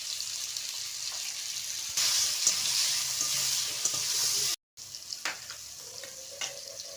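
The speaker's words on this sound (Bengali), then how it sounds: "এবার বেগুনগুলো ভেজে নেব" Eggplant pieces frying in oil in a home kitchen, a steady close sizzle with occasional clinks and stirring, briefly cutting out before resuming.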